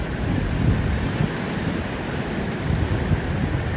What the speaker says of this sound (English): massive waves have begun to sweep away boats and homes